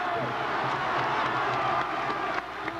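A packed high school basketball state championship crowd at Central roars steadily, loud and continuous, with a dense wash of cheering and shouting at full volume for the whole stretch.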